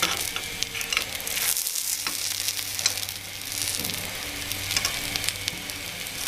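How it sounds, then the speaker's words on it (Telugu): Carrot ponganalu fry in a pan after being flipped, a steady close sizzle and crackle of hot oil running throughout with occasional stirring or scraping noises and no talking. "ఇలా ఒకవైపు రెడీ అయిన క్యారెట్ పొంగనాలని మరోవైపు తిప్పుకొని మరో 2 నిమిషాలు మగ్గనివ్వాలి."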